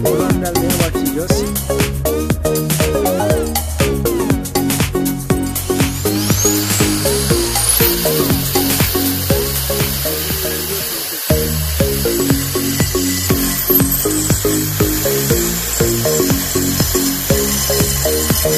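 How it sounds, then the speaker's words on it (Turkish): An electric drill fitted with a 6 mm metal bit bores into a thin metal profile, its loud, whining motor rising and dipping in repeated bursts, with a brief pause in the middle. "Şimdi 6 milim saç delme ucu taktım elektrikli matkabımıza."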